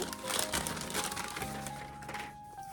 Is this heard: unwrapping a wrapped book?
yes